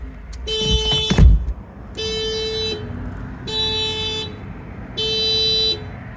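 A car's emergency warning beeper sounds in four evenly spaced electronic bursts, each lasting under a second, with a thud near the first burst.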